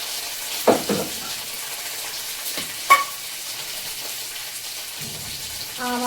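Curry leaves and two dried red chillies hit hot oil at close range, giving a low steady hiss with a few sharp crackles and pops scattered across it. No one speaks.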